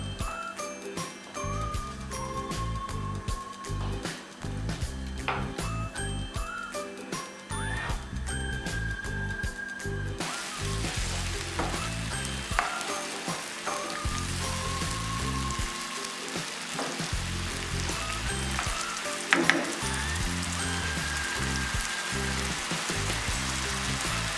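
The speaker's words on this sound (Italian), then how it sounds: "Mettiamo la cipolla. E la facciamo soffriggere un po'." Onion sautéing in a pan with a pinch of salt, a steady close sizzle and crackle running throughout over faint kitchen clinks.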